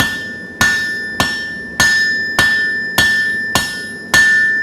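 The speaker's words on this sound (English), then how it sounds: "2 inches out of the anvil, 2 degrees here, and the hammer is forging." A hammer forging metal on an anvil: eight evenly spaced, ringing blows about 0.6 seconds apart, each sharp strike fading before the next, loud and close with no talk.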